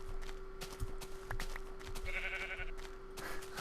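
Minecraft sheep bleating, short wavering baa calls from the game heard over a steady electronic hum and scattered clicks, moderately faint.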